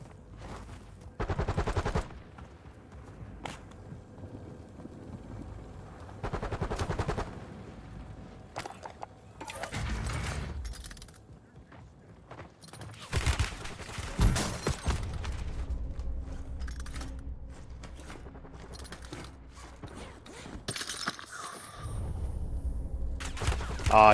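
Scattered bursts of Warzone gunfire come in short separate volleys between quieter gaps, some close and loud, others softer, with faint footsteps and movement in between.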